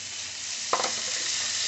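Pork sizzles steadily in a hot pan, with a brief clatter of stirring partway through.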